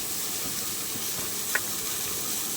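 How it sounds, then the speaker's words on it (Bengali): Chopped ash gourd cooks in a pan with only a little salt and no added water, giving a steady, even hiss of steam and light sizzle with one small click. "এবার আমি চাল কুমড়োটারে একটুখানি জল ছাড়াই সেদ্ধ করে নেব।"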